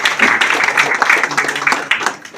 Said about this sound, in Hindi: एक बार ऋतिक सर के लिए जोरदार तालियां हो जाए